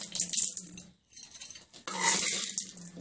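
A spoon stirs lemon rice in a metal pot, giving close, busy clinks and scrapes in two bursts with a short pause between them.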